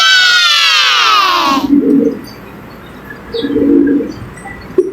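Low, soft pigeon coos come in two short bursts, close by, after a brief loud whistling sweep at the start.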